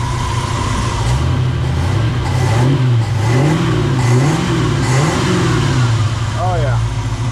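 A 1967 Ford F100 truck engine, fitted with an aluminum radiator, revs repeatedly in rising and falling sweeps over a rumbling idle, loud and close, with a person speaking briefly over it.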